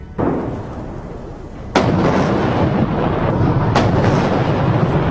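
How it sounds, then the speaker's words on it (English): Heavy booms of a 70-gun salute fired in Tiananmen Square roll out, with two sharp reports about two seconds apart over a continuous rumbling wash of echo. "A 70-gun salute in Tiananmen Square to mark the end of the war with Japan"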